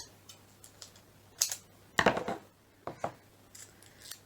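Scissors snip through sellotape during a children's craft activity, a few short crisp cuts with small ticking clicks between them, close and fairly quiet.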